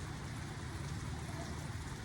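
Rain falls as a steady, dense wash of patter with no distinct drops standing out. The sound is fairly faint and constant, with no talk.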